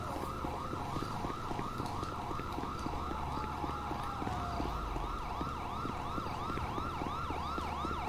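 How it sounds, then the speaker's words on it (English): A police car siren in the video game GTA 5 wails steadily in a repeating rising-and-falling cycle, loud and continuous throughout, with no talking over it. "I left the siren on."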